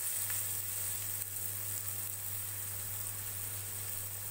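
Chopped onions fry in a pan with salt, giving a steady, dense sizzle with a low constant hum underneath, continuous and close with no talk over it.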